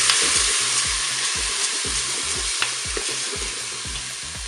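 Lentils tipped into golden bacon lardons sizzling in a Cookeo multicooker, a steady loud frying hiss with rhythmic stirring scrapes throughout, no voices.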